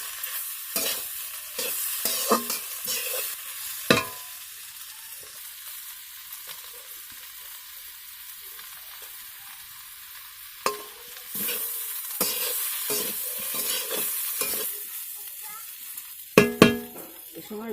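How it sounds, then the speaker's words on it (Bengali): Meat being fried in a pan and stirred, with repeated sharp scraping and clinking of the spoon against the pan over a soft sizzle, near and intermittent. "এবারে মাংসটা দিয়ে দিই, দিয়ে আর একটু ভেজে"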